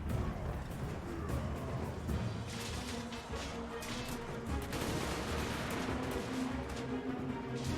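Dwarf units in a Total War: Warhammer 2 battle fire in a continuous crackling roll of distant gunshots, a dense, even din of volleys with crashes and faint battle noise throughout.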